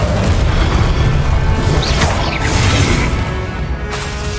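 In the Hogwarts Legacy video game, an Incendio fire spell is cast during a Charles Rookwood trial. It lands as a loud, dense burst with a whooshing roar that fills the whole moment, and no one speaks.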